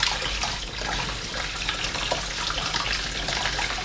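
Salted dried fish rubbed gently and washed under a running tap, a continuous rush of water with soft splashing and rubbing, close and even throughout.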